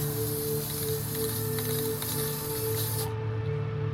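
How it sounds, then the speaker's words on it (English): A steady, forceful hiss of an aerosol can of hammered Antique Pewter paint and primer spraying up close, continuous for about three seconds before cutting off. "Wow, that is a strong spray."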